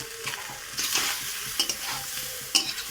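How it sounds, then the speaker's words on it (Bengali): Sun-dried mango pieces are stirred in hot oil in a pan, giving a soft continuous sizzle broken by several scraping strokes of the spoon, with no talking. "আমগুলো দিয়ে দিলাম, দিয়ে একটু ভালো করে নেড়ে ছেড়ে দেবো"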